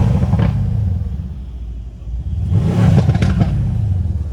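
A Mercedes C63 AMG S engine, heard from inside the car, rumbles deeply at idle, then swells into a loud rev around the middle before settling back to a throbbing growl.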